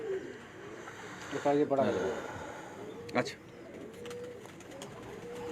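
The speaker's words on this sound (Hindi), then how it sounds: "लाजवाब लाल परी कबूतर हैं जी" Lal Pari pigeons coo softly on a rooftop in a few short, rolling bursts, close by, with people talking between the calls.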